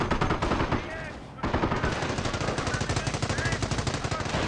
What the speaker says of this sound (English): Machine gun emplacement